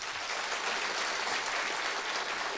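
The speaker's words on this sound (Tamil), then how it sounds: "நல்லாவே கைத்தட்டலாம் அவங்களுக்கு" An audience claps for a speaker at a Tamil comedy debate stage event, with dense, steady applause filling the whole stretch at moderate loudness.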